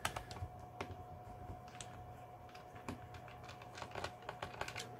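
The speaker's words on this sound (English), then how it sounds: "When you're undoing them, you'll hear them just clicking because they can't come out any further." Small screws on a Lenovo T440 laptop's underside casing click repeatedly as they are undone, a run of sharp, irregular close-up ticks over a faint steady hum.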